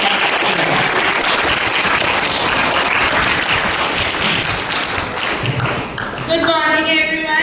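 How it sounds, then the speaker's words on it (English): A large audience at a fashion technology career guidance event claps loudly in sustained applause to welcome student speakers, dense and steady before a brief dip and a voice starting. "We all can clap loudly to welcome and show our respect for our students"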